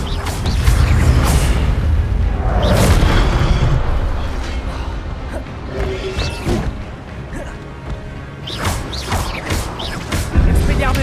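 Expelliarmus spell cast in Hogwarts Legacy, loud magical blasts and booming impacts with crashing bursts, several hits over a dense game soundscape with a voice speaking.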